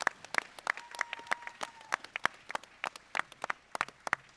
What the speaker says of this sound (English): Give it a round of applause for Bowers Group.